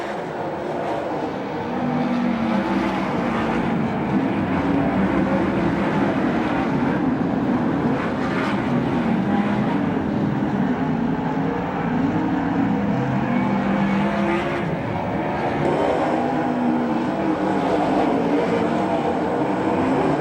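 360 sprint cars race on a track at a USAC National/CRA sprint car event, a dense, steady engine drone heard from a distance with gentle swells as cars pass, no voices over it.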